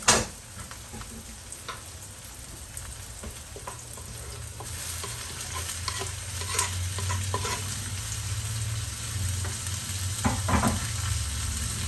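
Onions and peppers sauté in a pan with a steady low sizzle that grows denser and louder partway through, broken by scattered clicks and scrapes of stirring, with no voices.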